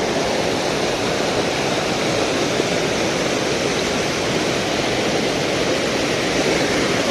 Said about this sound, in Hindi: इतनी खतरनाक नदी आ रही है गाइस